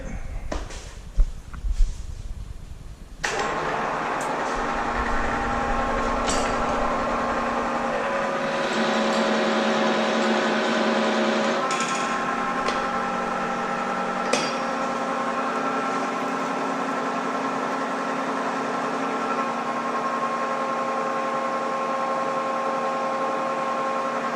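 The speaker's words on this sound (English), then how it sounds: "So when I drill this hole, I'm gonna set the DRO to 0 on X and Y" A steady machine drone runs throughout, with a sustained grinding, whining tone from a drill boring a hole in metal on a mill with a digital readout, after an initial burst of clatter.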